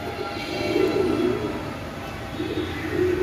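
Soft, low cooing of pigeons repeating in short rolling bursts over a faint background rumble.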